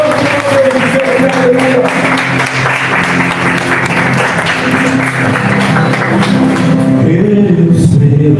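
A congregation at a church service claps loudly and steadily for several seconds, with music and voices mixed into the dense applause.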